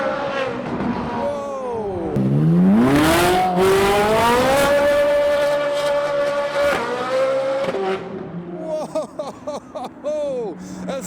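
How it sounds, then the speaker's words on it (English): Liberty Walk Ferrari 458 revving hard before a crowd, its engine note sweeping up into a long sustained howl, then dropping away into short sharp blips near the end, loud and close. "we have the Liberty Walk Ferrari 458 giving some revs to the excitable"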